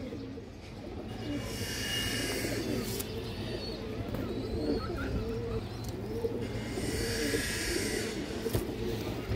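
Pigeons, including restless fancy breeds, coo in repeated soft, throaty phrases close by, with intermittent chirps and faint background noise throughout.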